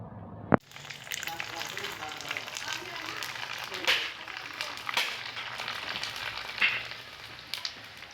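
Bhaji fritters frying in hot oil in a home kitchen during the Bail Pola festival: a steady, fairly quiet sizzle with scattered crackles and pops, starting abruptly after a short thud and continuing without break.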